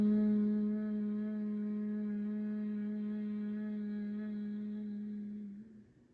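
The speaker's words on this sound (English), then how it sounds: "And on your exhale, let it be a hum." A single sustained hum on the exhale during a throat chakra yoga flow, one steady low voiced tone held for several seconds, soft and close, fading out at the end of the breath.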